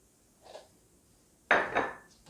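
A kitchen knife cuts oysters into thirds on a board, giving a faint tap and then a louder cluster of chopping knocks with a clink.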